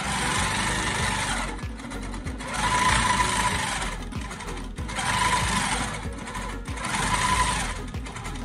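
A long-arm quilting machine stitches straight lines in repeated runs, its close motor whirring in several surges with short pauses between, steady and loud with no voices.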